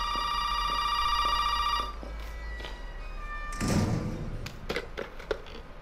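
A telephone in the Resident Evil horror game rings loudly in a steady tonal burst that stops after about two seconds, followed by thuds, footsteps and knocks.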